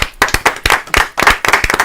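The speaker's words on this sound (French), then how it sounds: "Et puis notre invité ce soir qu'on peut applaudir" A studio audience claps for a magician introduced as the guest on a French evening TV talk show, a burst of loud, quick handclaps in close, uneven rhythm.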